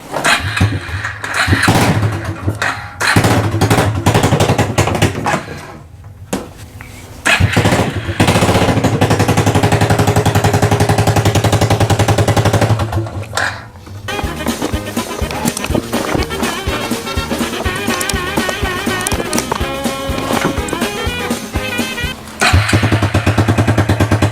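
A small engine with a sticking choke sputters and runs unevenly up close, loud bursts cutting out and restarting, then settling into a rougher steady putter near the end.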